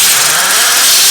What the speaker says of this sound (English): Flipping air gun's making me deaf.